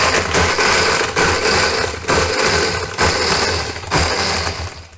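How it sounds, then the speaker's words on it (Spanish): Kitchen blender crushing ice with Baileys frappe ingredients, a loud continuous whirring grind with brief dips in intensity as the ice breaks up, running steadily throughout with no talk. "Ya con todos los ingredientes, vamos a licuar muy bien."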